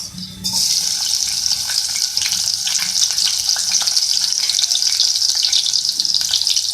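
Small onion dropped into hot oil for a potato and green onion sabzi, a steady loud sizzle and crackle starting abruptly and holding close throughout.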